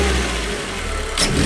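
A Renault Clio RS engine with a newly fitted intake, a close steady engine drone holding throughout with a brief rise in revs near the end, heard alone.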